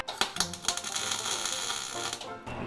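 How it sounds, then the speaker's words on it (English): Welding a metal table frame produces a few sharp crackling bursts and then a steady sizzling buzz close by, with a voice speaking at moments over it. "Yeah, I can weld it."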